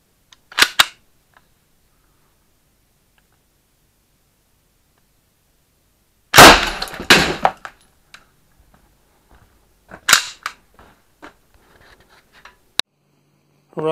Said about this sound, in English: Another shot from the rifle. Machine pistol, really.